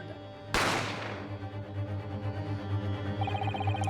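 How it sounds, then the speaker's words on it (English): A single sharp gunshot cracks out in The Great Ace Attorney Chronicles, loud and close, then rings away into a sustained musical drone with faint chiming tones toward the end. "You heard the gunshot, you mean?"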